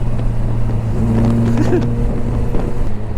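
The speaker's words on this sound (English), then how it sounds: "there is Abhinav on his Harley Fat Bob, a Harley equivalent to a sports bike" A Harley-Davidson Fat Bob motorcycle cruising on a Delhi road gives a steady, close engine drone mixed with rushing wind noise throughout.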